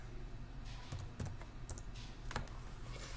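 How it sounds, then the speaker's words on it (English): Keys clatter on a computer keyboard as software is installed on a Slackware Linux system, with irregular soft keystrokes in short bursts over a steady low room hum, and no voices. "now I'm going to type in SBO package"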